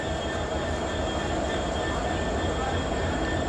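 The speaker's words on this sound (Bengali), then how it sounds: "আমাদের আজকের ট্রেনের নেতৃত্বে থাকছে 66 সিরিজের EMD ব্রড গেজ লোকোমোটিভ" A broad gauge train led by an EMD 66 series locomotive, the Banglabandha Express, rolls along as a steady, dense rumble with constant hiss and noise, heard close and continuous.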